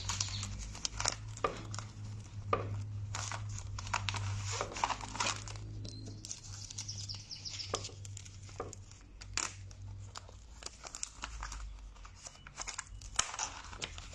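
Adhesive film is peeled and crumpled by hand, giving repeated crackling, crinkling bursts and sharp tearing sounds over a low steady hum, close and fairly quiet.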